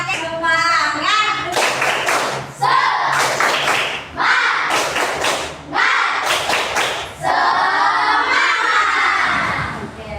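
A classroom of children performs a spirit cheer, shouting together and clapping in rhythmic bursts of rapid claps separated by short pauses, loud and close.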